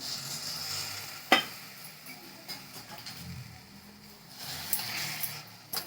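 Hot water poured into a rava modak mixture of roasted semolina and sugar in a pan, a sizzling hiss with stirring scrapes and a few sharp clinks, close and steady.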